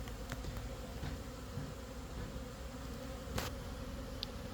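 A low, steady buzz of honey bees hums continuously at a faint level, with occasional clicks and taps.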